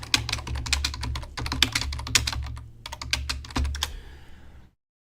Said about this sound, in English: let me go and type this in here